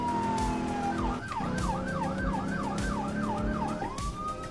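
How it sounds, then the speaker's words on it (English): A police car siren in a driving simulator game wails loudly and up close, sliding into a rapid repeating yelp pattern before returning to a long rising tone, over a steady engine drone. "Let's get the siren off."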